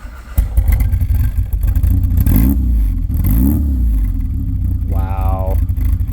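A 1967 Austin Mini wagon's engine runs through a modified exhaust, rumbling loudly and close with a couple of quick rising revs, and a voice briefly speaks near the end.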